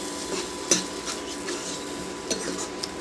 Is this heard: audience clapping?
no